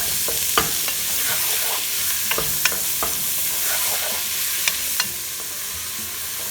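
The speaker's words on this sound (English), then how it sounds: "now this has been sauteing for about 2 minutes" Fresh-cut tomatoes saute in a pan for Mexican acorn squash soup, a steady close sizzle broken by scattered sharp scrapes and clicks of stirring, with no voices.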